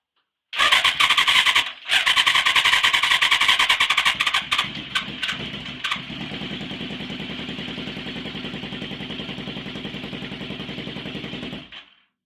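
A Yamaha FZR 1000cc engine in a grasstrack motorcycle rebuild, misfiring with only the two outer cylinders running. It cranks with loud, choppy bursts for several seconds, then settles into a steady, even idle before cutting out.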